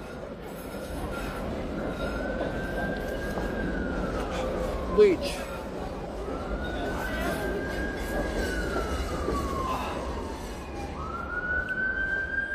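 A police siren wails in long rising and falling sweeps, moderately distant, over steady background rumble on a street in Prague; a brief voice cuts in once.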